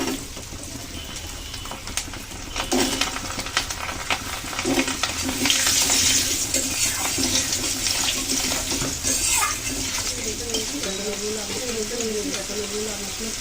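Potatoes go into a pan and fry for an egg curry with pumpkin dumplings, giving a loud, continuous hissing sizzle with scattered clatters and stirring. A faint voice is heard briefly near the end.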